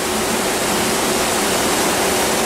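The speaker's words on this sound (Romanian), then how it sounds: "Iată cum curge apa." Water rushes steadily in a hotel courtyard in Las Vegas during a flood, a dense, even wash of noise with no pauses or voices.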